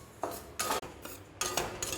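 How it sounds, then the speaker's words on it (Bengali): A spatula stirs dry semolina in a kadai with no oil, giving a run of soft scraping and rasping strokes. The strokes come in separate bursts about every half second, close up, with no talking. "প্লেন কড়াইতে সুজিটাকে এখন রোস্ট করছি।"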